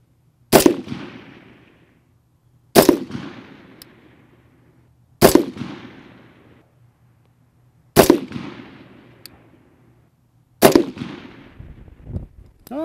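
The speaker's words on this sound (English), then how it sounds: "Let's put down another 5-shot group." A rifle fires a five-shot group on a range while being zeroed: five loud, sharp, close reports spaced about two to three seconds apart, each followed by a short decaying echo.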